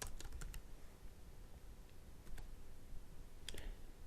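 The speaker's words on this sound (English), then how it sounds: "So let's just type this as position." Keys clatter on a computer keyboard as code is typed, with quick irregular bursts of clicks and short pauses, close and fairly quiet, with no talking.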